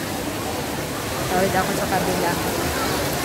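Steady broadband roar of Mahihay Falls, a waterfall crowded with people, fills the scene as a loud, continuous wash that stays even throughout, with faint crowd voices mixed in.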